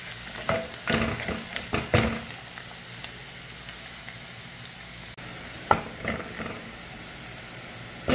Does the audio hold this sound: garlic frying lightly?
yes